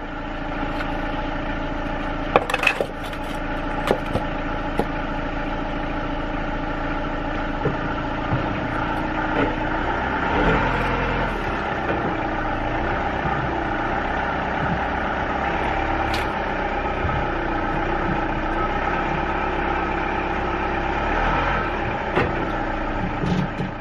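A motorhome with a steady, continuous engine drone as it is driven slowly up onto ramps, the low mid-pitched motor rising slightly partway through, with a few faint knocks and clunks near the start.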